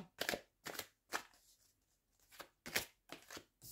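A tarot card is drawn from a deck in a string of soft, close card swishes and shuffles, about seven brief rustling bursts in an uneven rhythm with near silence between them.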